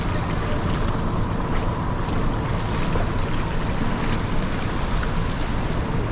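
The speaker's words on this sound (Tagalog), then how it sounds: "Laki ng mga alon no." Waves wash steadily beneath a bridge where people are fishing in murky water, a continuous loud churn of water mixed with wind buffeting the microphone, with no talking.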